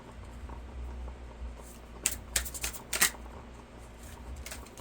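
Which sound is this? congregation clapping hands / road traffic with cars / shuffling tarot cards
shuffling tarot cards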